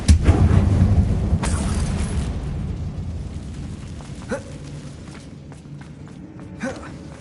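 A Confringo blasting spell explodes in a Harry Potter video game: a deep booming blast up front, then a long rumbling decay, with small thuds and crackles later.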